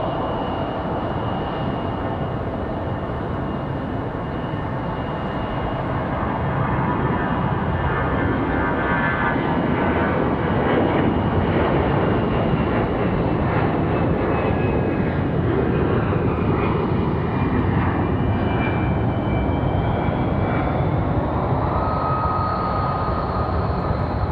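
Airliners at Raleigh Durham International Airport roar with a loud, sustained jet engine drone that swells and holds, carrying whining tones that shift in pitch as an aircraft passes nearby.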